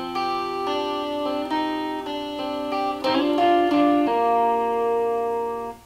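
An electric guitar plays the riff section from a song, a clear sequence of picked notes and ringing chords with pull-offs, close and alone without talk.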